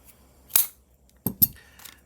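A knife slices into cardboard packaging in a few short, sharp cuts and snips at close range, three or four quick scraping bursts separated by quiet pauses.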